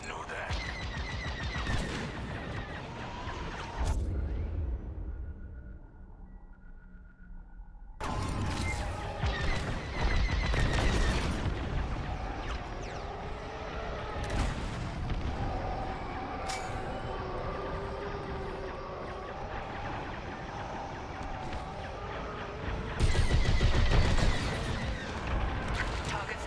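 Laser turret fire during a space battle in the video game Star Wars Squadrons, loud dense bursts of blasts and rumbling impacts filling most of the stretch, with a brief quieter gap early on and a heavier surge near the end.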